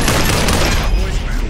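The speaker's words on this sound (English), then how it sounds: "grenades inbound" Grenades explode in the VR shooter Population One, a dense, loud burst of blasts and gunfire filling the whole moment with no pauses.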